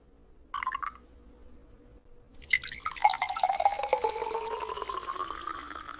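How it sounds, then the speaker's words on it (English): Orange juice is poured into a glass, with a short splash first and then a steady liquid stream whose pitch rises as the glass fills, heard close and clear in a quiet room. "I pour some orange juice."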